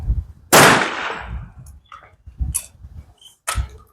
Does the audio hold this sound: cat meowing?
no